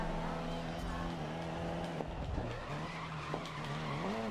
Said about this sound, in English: Yeah, I'm drifting on Thanos.